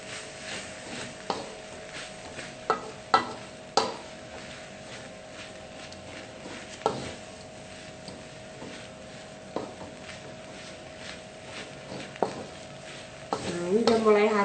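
Urap spice paste with grated coconut being stir-fried in a pan, a soft continuous sizzle punctuated by sporadic scrapes and taps of a spatula, with a louder burst of stirring at the end.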